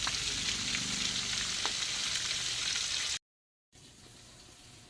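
Fish roe fries in hot oil with a bright, continuous crackling sizzle close by, cut by a brief silent gap before the sizzling resumes more softly; no talk.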